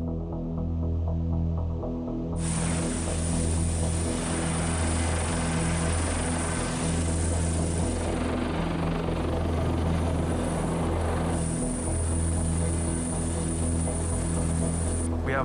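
A coast guard helicopter in flight, its steady loud rotor throb and engine hum continuing throughout, with a high turbine whine that comes in sharply after a couple of seconds.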